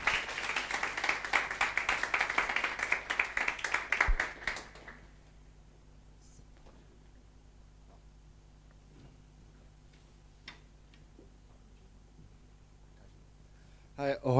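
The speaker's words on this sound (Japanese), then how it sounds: "それでは皆さん拍手を持ってグラブス吉野兄弟を迎えましょう" A church congregation claps to welcome a speaker, a dense burst of applause for about four seconds that cuts off abruptly into a quiet room with only faint, scattered small noises afterward.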